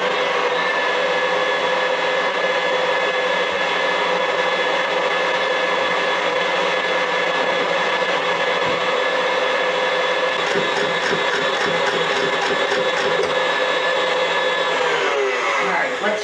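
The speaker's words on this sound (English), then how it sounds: "This on the mixer. Beat it up until it becomes whipped." An electric mixer whips chocolate peanut butter mousse ingredients, giving a steady, loud, continuous whir that holds throughout, with a slight shift in pitch near the end.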